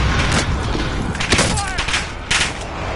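In a video game, a decoy grenade mimics gunfire, giving a few sharp, popping bursts that sound like shots over a steady background of game noise during three seconds of play.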